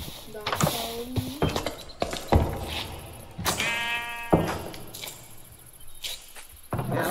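Sheep bleats from Minecraft, with a wavering, nasal bleat standing out midway among sharp clicks, footsteps and other game noises in a busy, fairly loud stretch.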